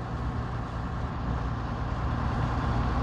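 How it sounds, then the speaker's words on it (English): A truck rumbles past on a Houston road, a steady, loud, low engine roar filling the whole moment with no break and no voices. "I guess wherever that truck's going,"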